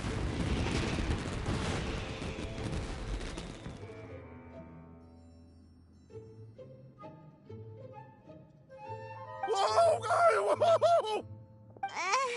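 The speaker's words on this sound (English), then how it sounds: "Yoimiya, this is turning into a bit of a fireworks display." Fireworks burst in the video game Genshin Impact, a dense roaring crackle of explosions for the first few seconds that fades into tonal game music and effects, with a brief bright flurry later on.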